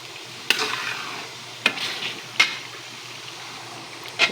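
Shrimp go into a hot pan for a sweet and spicy dish, giving a steady soft sizzle with a few sharp stirring scrapes and clinks spaced through it, close by and with no talking.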